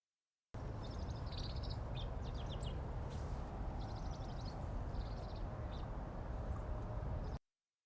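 Dark-eyed junco calls come as short, high, sharp chips and quick twittering bursts, fairly faint and distant over a constant low outdoor rumble.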